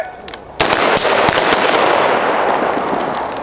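Gunfire at a Green Beret range day fundraiser in Pennsylvania, a loud rapid burst of shots roaring on without a break and washing through the air.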